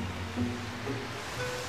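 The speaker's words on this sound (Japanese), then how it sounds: "これ大きな川だな。" A large river swollen by rain rushes past in a steady, broadband wash, heard close and continuous over a short stretch with no talking.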